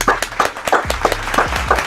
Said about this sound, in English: clap it up for your defense